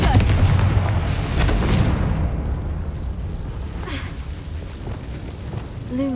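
A Confringo spell explosion in the video game Hogwarts Legacy, a loud booming blast with a long rumbling decay, mixed with game effects and faint voices in the background.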